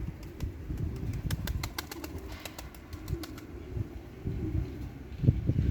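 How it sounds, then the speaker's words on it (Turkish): Pigeons, including white birds and a mirror-tailed soap-coloured pigeon, arrive at a loft with soft cooing and occasional wing flaps over steady wind noise, moderately close and fairly quiet. "Kuşlarımız geldi."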